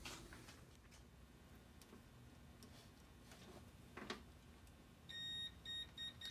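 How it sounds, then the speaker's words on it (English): A continuity tester's short electronic beep chirps a few times near the end, testing a wire on a 1988 Dodge Raider, over steady low hum and faint background noise. "you can hear that it beeps, so there's continuity"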